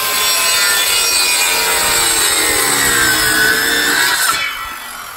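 Hand sawing through wood for a fence gate: continuous close, loud rasping strokes that fade slightly near the end.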